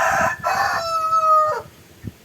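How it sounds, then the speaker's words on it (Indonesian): A rooster crows loudly and close by, two rising calls followed by a long drawn-out crow that trails off, with a faint thump at the end. "Loh, ayam berkokok ya."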